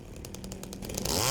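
Chainsaw engine roar from a video game, a buzzing revving whine with rhythmic pulses that swells louder toward the end, steady and close with no talking.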